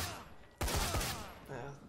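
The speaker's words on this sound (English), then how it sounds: "I heard a gunshot." Gunfire in the video game Dead Rising 4, a sudden loud burst of shots that cuts in and rings out briefly before a softer sound follows.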